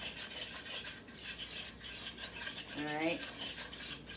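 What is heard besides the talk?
whisk stirring flour sauce in a pan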